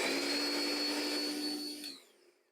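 A cordless lawn mower motor with no blade fitted, earlier revived from a bricked state using an automotive relay, gives a steady high electric whine, then quickly winds down toward silence near the end.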